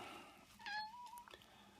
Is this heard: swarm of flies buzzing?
no